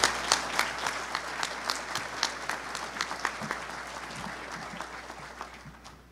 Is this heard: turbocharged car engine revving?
no